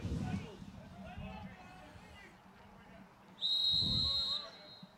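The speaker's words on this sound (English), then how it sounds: "Play is whistled in." A referee's whistle starts play at a Canadian junior football game between the Winnipeg Rifles and Saskatoon Hilltops at Mustangs Field, one sharp, shrill blast heard under a commentator's voice.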